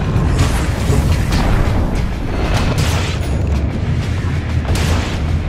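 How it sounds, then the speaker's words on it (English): A tower being destroyed in Dota 2, heavy booming impacts and crashes layered in a dense, loud battle din with repeated sharp hits throughout. "Radiant's bottom tower has fallen"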